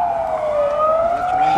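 A police car siren wails past near a Danube shore at Orsova, its steady rising-and-falling tone holding loud and continuous throughout with no voices.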